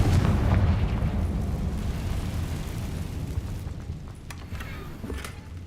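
A Confringo explosion spell goes off in Hogwarts Legacy, a loud rumbling blast that fades over several seconds, followed by scattered debris crackles.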